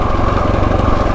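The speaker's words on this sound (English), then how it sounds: "This thing's exhaust note sounds pretty good, even through the camera." A KTM 690 Enduro motorcycle's exhaust note sounds as a loud, close, steady single-cylinder thump, its rapid pulsing running throughout with no talking.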